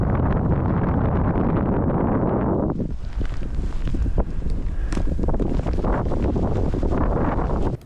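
Strong wind roars across an exposed south ridge on a mountain ski tour, steady and loud throughout, with a dense low rumble giving way to brighter, gusty buffeting against the microphone.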